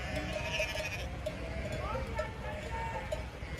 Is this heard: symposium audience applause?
no